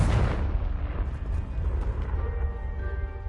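A Confringo explosion spell goes off in the Hogwarts Legacy video game, opening with a loud, broadband blast that settles into a dense rumbling roar and crackle sustained to the end.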